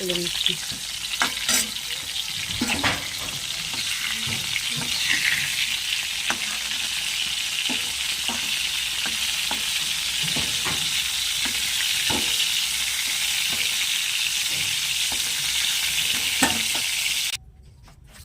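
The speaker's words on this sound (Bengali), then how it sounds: "দেখুন পটলগুলো কীভাবে সুন্দর ভাজা ভাজা হয়ে গেছে" Pointed gourd (potol) fries loudly in a pan, a dense, close sizzle punctuated by frequent spatula scrapes and taps as the pieces are turned, ending abruptly.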